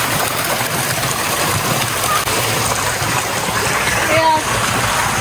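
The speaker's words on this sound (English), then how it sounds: "This is the pool. Flowing water." Water flows steadily in a resort pool at a mountain campsite in Negros, a dense, even rush heard close and constant throughout, with voices faintly in the background.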